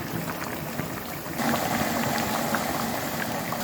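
A pot of water at a rolling boil on the stove with pasta being added, a dense steady bubbling hiss that swells louder partway through, close and alone.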